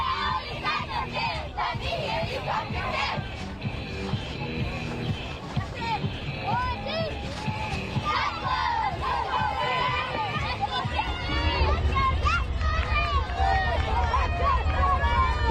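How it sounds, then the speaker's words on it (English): Cheerleaders shout a school cheer at a Friday night high school football rivalry game, voices loud and continuous amid a noisy stadium crowd with no clear individual words. "do you have a favorite cheer you like to share with us?"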